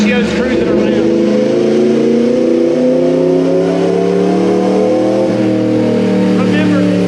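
A 2019 Yamaha R1 with a Stage 2 unrestricted ECU flash, race-gas tune and race-rich fueling runs on a dyno, its engine droning loud and steady with rising and falling harmonics as it cruises through the revs, while someone talks over it.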